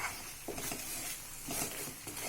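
Asoka halwa being stirred in a pan with ghee, a soft continuous scrape and faint sizzle with irregular louder pushes of the spoon, close and steady, no voices.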